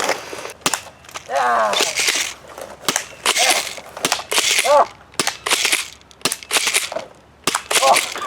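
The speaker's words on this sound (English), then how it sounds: "Okay, Nerf gun." Nerf gun darts striking cardboard armor, a series of sharp snapping impacts in irregular bursts, close and loud, with people talking and exclaiming between hits.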